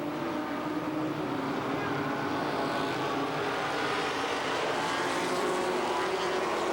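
Legends race cars roar around the Columbus Motor Speedway oval in a dense, continuous engine drone that stays loud and steady with no break, the pack bunched together.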